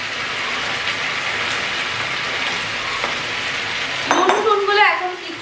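Marinated chicken sizzles steadily in a hot pan of oil, a close, even crackling hiss, with a person speaking briefly over it near the end.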